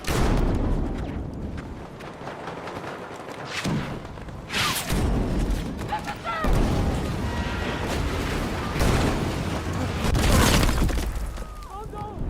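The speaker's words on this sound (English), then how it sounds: "A grenade blew up on the other side of the wall and killed me." Grenade blasts in a first-person shooter, a bursting detonation on the far side of a wall among several sharp booms and shattering impacts, with gunfire clutter throughout and players talking over it.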